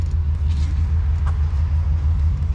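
A weak-batteried BMW 733i idles steadily, a loud continuous low rumble with a faint brief tick on top, close by.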